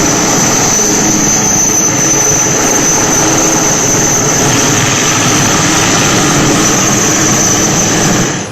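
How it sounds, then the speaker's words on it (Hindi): Air Force helicopter hovering over a flooded river in Madhya Pradesh, a steady, loud rotor-and-engine drone held throughout with no speech. "काफी देर तक मध्य प्रदेश के इस हिस्से में वायुसेना का हेलीकॉप्टर मंडराता रहा"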